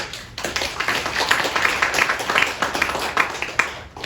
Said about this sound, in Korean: 박수로 하나님께.